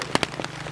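Rain falling outdoors during a short-film shoot, heard as a brief spatter of close drops with a few sharp hits standing out over a steady hiss.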